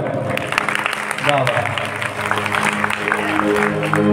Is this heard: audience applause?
yes